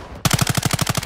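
A rapid automatic burst from Call of Duty: Modern Warfare II, a dozen evenly spaced loud shots in quick rhythm after a brief quiet start.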